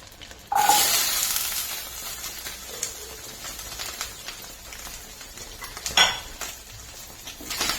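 Coconut, shallots and garlic fry in a pan while being stirred, a loud sizzle bursting in near the start, then steady frying with spoon scrapes and clinks against the pan, one sharp scrape late on, no talking.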